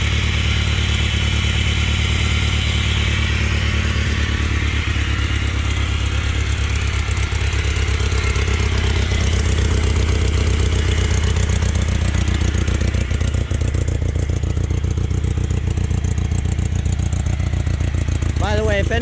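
A Satoh S650G plow tractor engine runs steadily nearby, a loud continuous low chugging rumble with clattering mechanical texture throughout.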